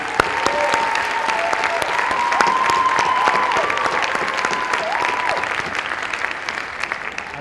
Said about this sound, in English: give our inductees, our new inductees, a huge round of applause